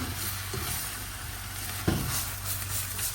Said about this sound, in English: pepper, some chili, some salt. Stir fry nicely.